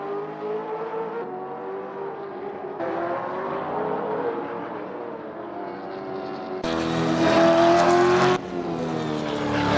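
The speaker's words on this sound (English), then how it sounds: "And the Bendix Camaro." Bendix Camaro Supercar racing around the Ruapuna circuit, a loud sustained V8 engine roar with pitch shifting through gear changes, swelling louder and harsher near the end as the car passes close.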